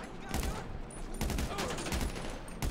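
Gunfire in Grand Theft Auto during a heist: sharp bursts of shots crackle at intervals over a steady bed of game noise, with a final burst near the end.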